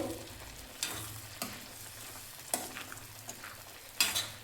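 A spoon scrapes and stirs through cooked dal with spinach in a pan on low flame, soft sizzling underneath and several clinking strokes against the pan.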